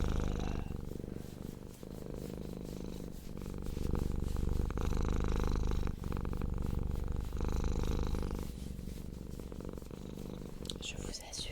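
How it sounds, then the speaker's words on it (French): A cat purrs close up in a continuous rhythmic rumble, each breath cycle audible, with soft whispery sounds layered over it. "c'est pas moi qui ronronne, c'est le chat"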